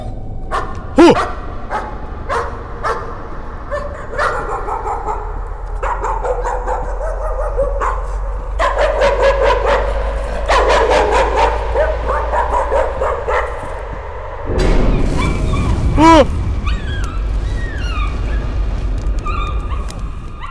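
A dog in the horror video game Layers of Fear barks loudly and repeatedly, mixing sharp yips and whimpers, followed by rising whining cries near the end over a low droning background.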